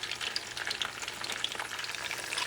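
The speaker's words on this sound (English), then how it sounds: "you're going to fry them for about 2 minutes, maybe 3, if that" Cod-stuffed ripe plantains (piononos) frying in hot oil, giving a steady, dense sizzle with fine crackling pops throughout, close and continuous with no talking.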